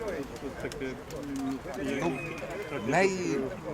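Pigeons coo in soft, repeated throaty warbles, with people talking quietly over them.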